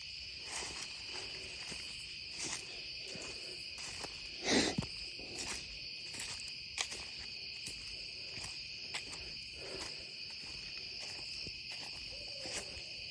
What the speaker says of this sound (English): Oh, there's a barred owl.